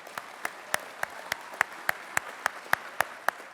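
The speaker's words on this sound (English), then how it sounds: "let us again have one more round of applause for all of our servicemen and women" At an armed services awards ceremony, an audience gives a round of applause; sharp claps come in an even rhythm of about three per second, moderately loud and heard alone.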